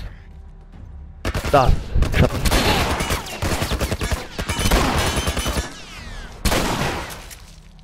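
Gunfire in The Last of Us Remastered comes as several sharp, loud shots and bursts with booming echoes and crashing debris, spread over a few seconds, while someone speaks briefly between the volleys.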